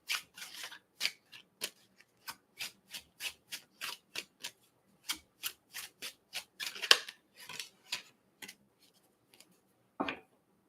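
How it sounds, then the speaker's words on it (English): A deck of cards is shuffled by hand, giving a quick series of soft, crisp riffles and flicks with short pauses between them. The sound is quiet and close, with no talk. "I'm going to do 3 shuffles"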